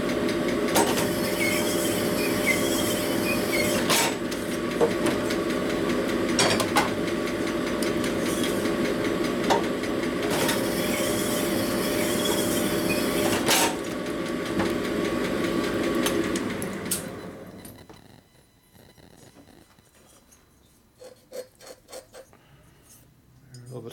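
A stone hone runs inside a Harley S&S big bore cylinder, a loud, steady machine drone with a rhythmic scraping texture that holds for about seventeen seconds, then cuts off, leaving faint clicks and low voices.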